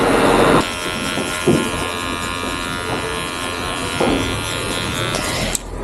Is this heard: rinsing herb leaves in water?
no